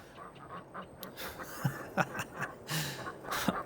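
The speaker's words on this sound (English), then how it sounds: "These ducks are still roaming around." Ducks roaming a farm in the Farming Simulator 22 video game quack several times in short, separate bursts against quiet game ambience.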